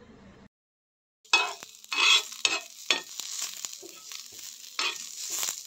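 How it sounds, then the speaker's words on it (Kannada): Chopped onion and curry leaves frying in oil in a pan, a brief silence giving way to bright close sizzling with bursts of stirring scrapes. "ಐಕೊಂಜಿ ಎಲ್ಯ ನೀರುಳ್ಳಿ ಕಟ್ ಮಂದಿನ ಬೊಕ್ಕ ಒಂತೆ ಕರಿಬೇವು ಅಯ್ನ್ ಸರಿ ಮಂತುದು ಫ್ರೈ ಮನ್ಪುಲೆ"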